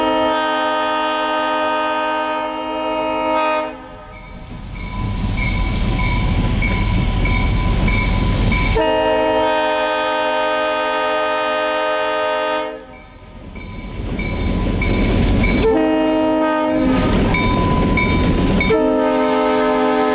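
An Adrian & Blissfield Railroad ethanol freight train hauled by GP9 locomotives passes near Blissfield, Michigan, its loud chord horn sounding in long repeated blasts over the heavy rumble and clatter of rolling railcars.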